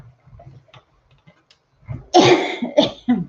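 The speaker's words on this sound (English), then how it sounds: "Got this niggly little cough that just will not go away." After a few faint taps and clicks in near silence, a person coughs close by, two or three harsh bursts in quick succession.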